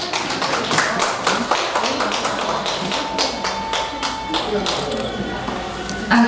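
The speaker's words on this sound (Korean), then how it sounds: "큰 박수 주시기 바랍니다" Audience applause at a book dedication ceremony honouring a miner father, a dense patter of many hands clapping throughout, with a voice briefly audible under it.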